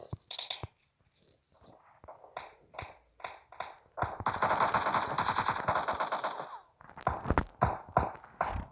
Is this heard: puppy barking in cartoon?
no